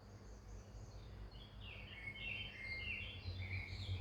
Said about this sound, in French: Tu écoutes le chant des oiseaux?